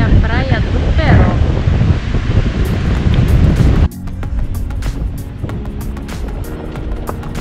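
Wind buffets the microphone over surf at Praia do Peró beach in Cabo Frio, loud and rough for the first half, then quieter steady wash with faint clicks, and a voice speaks briefly at the start.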